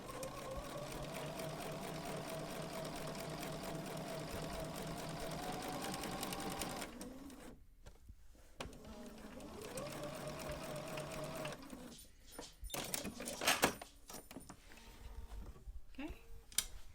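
Bernina sewing machine fitted with a pintuck foot stitches pintucks in steady, close whirring runs, pausing briefly around the eight-second mark before resuming, then breaking into clicks and handling noises near the end.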